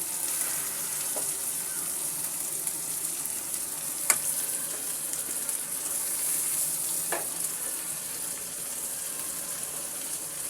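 Tilapia fish frying in a pan of hot oil gives off a steady, fairly soft sizzling hiss, broken by a few sharp pops and crackles.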